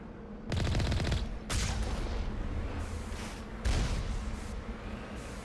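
Repeated sniper gunfire in the Mass Effect 1 Legendary Edition shooter, crackling bursts of shots arriving in three loud waves with dense rattling tails and heavy low thumps, no voices.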